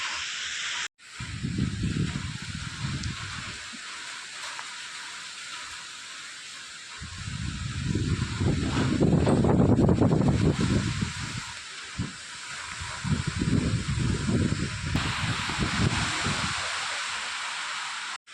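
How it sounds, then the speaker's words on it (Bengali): Strong cyclone wind blows outdoors in a steady hissing rush, swelling into louder low gusts three times with roaring surges between calmer stretches. "প্রচণ্ড জোরে জোরে হাওয়া দিচ্ছে"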